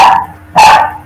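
Dog barking in the Minecraft video game, two quick loud barks close together, sharp and near, with no one talking.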